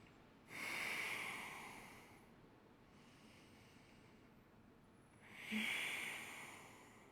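Two slow, deep breaths while holding a gentle yoga pose, each a soft airy exhale close to the microphone, separated by a quiet pause with faint room tone.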